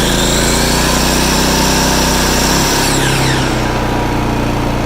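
A 15-amp miter saw runs on power from a Predator 4400-watt inverter generator, giving a loud, steady motor whine with a constant drone underneath that shifts slightly partway through, no voices.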